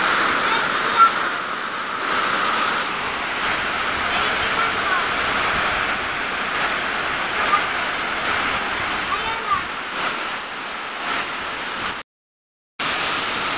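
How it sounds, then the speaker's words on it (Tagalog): Heavy rain lashed by strong wind at a house in the Agusan Marsh: a loud, steady broadband roar that barely lets up, with a brief complete dropout near the end. "Grabe ang lakas ng hangin."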